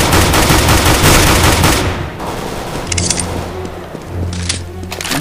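Loud, rapid automatic gunfire in Counter-Strike during a planted-bomb round, a dense burst of shots that thins into scattered sharp cracks and clinks.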